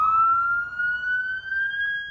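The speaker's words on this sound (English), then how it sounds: "Police cars drive by the encampments, checking things out." A police car siren wails steadily as the car drives past homeless encampments on a city street near a freeway, one sustained, gradually rising tone that stays loud and close, with no voices.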